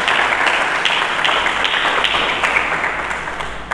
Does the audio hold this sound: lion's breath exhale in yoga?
no